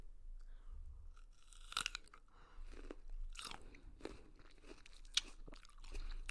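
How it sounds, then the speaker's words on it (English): Close, quiet chewing of green grapes gives crisp wet crunches and bites in an irregular rhythm for several seconds, with no talking during the chewing. "Do you hear that crunch"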